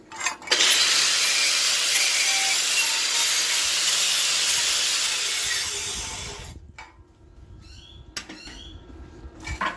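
A 4.5 inch angle grinder fitted with a wire disc cleans metal before a test weld. It gives a loud, sustained high whine for about six seconds, then spins down into quieter clinks and handling noise.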